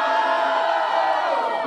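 A crowd at a Halloween battle event in Londrina, Paraná, cheers, whoops and shouts in a loud, dense, continuous roar that holds steady throughout.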